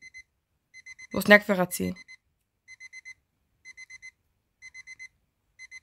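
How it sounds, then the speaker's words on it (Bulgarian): Electronic alarm clock in a video game set for 11 pm, sounding in short repeated bursts of high beeps, with a brief stretch of a voice speaking over them. "Кой ще направи аларма за 11 часа вечерта?"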